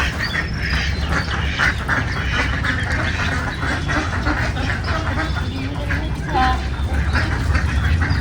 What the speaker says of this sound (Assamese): সেইফালে আমাৰ হাঁহ